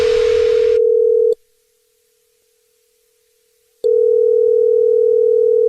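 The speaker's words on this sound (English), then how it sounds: "It's another Jubal phone prank" A steady telephone dial tone hums loudly, cuts out for a couple of seconds of near silence, then returns just as loud before a prank call begins.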